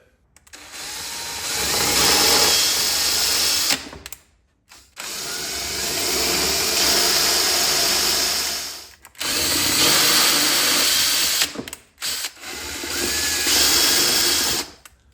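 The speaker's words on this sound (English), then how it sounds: "you're gonna make your final holes using a 1/4 inch drill bit" A power drill with a 1/4 inch bit whirs in several bursts, spinning up and cutting holes for a headlamp air duct install on a Dodge Challenger Scat Pack, a few seconds each time, with short silent pauses between runs.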